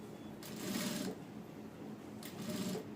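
A sewing machine stitches piping onto a padded princess-cut blouse in two quick bursts of rapid mechanical whirring, each about a second long, close by with a soft pause between them.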